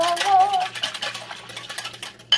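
Apple cider vinegar and honey are whisked together in a bowl, the whisk making quick, rhythmic scraping strokes up close, with a voice heard briefly at the start.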